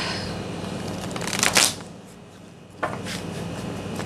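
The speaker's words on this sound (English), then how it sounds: "One more shuffle." Tarot cards riffle-shuffled in two bursts, a loud flurry of rapid flicks followed by a shorter second shuffle, with a faint hum underneath.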